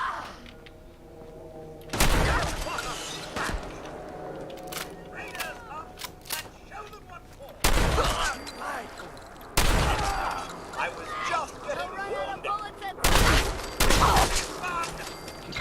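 A shotgun fires in the video game Fallout 4, with several loud, sharp blasts spaced a few seconds apart and game voices and effects in between.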